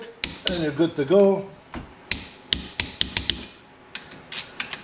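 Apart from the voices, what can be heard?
torque wrench clicking at 80 foot-pounds on Polaris Sportsman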